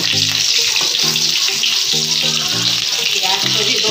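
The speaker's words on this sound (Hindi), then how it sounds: "प्याज को भी 2 मिनट के लिए फ्राई कर लेना है।" Onions frying with potatoes in a pan for bhindi masala make a loud, steady hissing sizzle throughout, with a tonal hum pulsing underneath and no speech.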